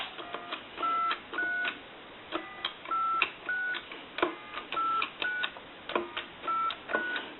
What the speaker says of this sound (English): Now we want to dial our numbers.